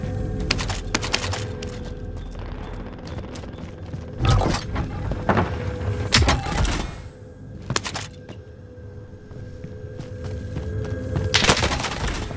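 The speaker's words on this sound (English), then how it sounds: "Assault rifle here." Assault rifle fire in a console shooter match on the Rebirth and Fortune's Keep maps, heard as loud, sharp bursts scattered across the stretch over a busy background of game noise, with a heavy cluster near the end.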